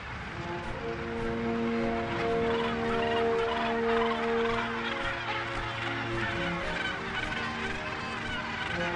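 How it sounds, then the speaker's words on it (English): Gannets calling at a crowded island breeding colony in Africa, a dense, continuous chorus of harsh overlapping cries that holds steady throughout. "Overhead, gannets continue to return to the colony."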